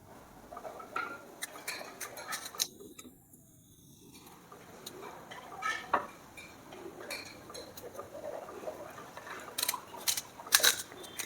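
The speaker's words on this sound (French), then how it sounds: "On commence par couper les tomates en deux, puis on retire la petite partie verte qui se trouve au centre" A knife cuts tomatoes in half on a board in a home kitchen while palak paneer is being prepared, giving a scattered run of light, sharp clicks and taps close by with no one speaking.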